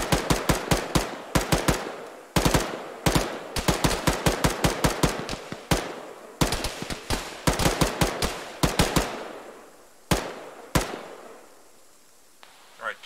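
Gunfire in the ArmA military game during a ShackTac session: many loud, sharp shots fire in quick strings and spaced singles, sometimes as rapid bursts, then thin out to a few isolated reports near the end.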